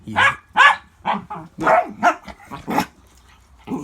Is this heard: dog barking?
yes